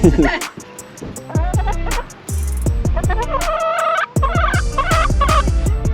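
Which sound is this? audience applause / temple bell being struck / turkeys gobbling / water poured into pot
turkeys gobbling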